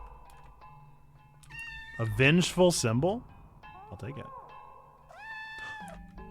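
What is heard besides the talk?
cat meowing in the video game OFF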